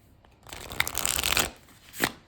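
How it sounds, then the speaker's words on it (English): A linen-textured deck of playing cards is riffle-shuffled close up: a fluttering burst of card edges that swells and runs for about a second, then a short crisp snap as the cards settle, with no talking. "it does shuffle pretty nice thanks to that linen texture there"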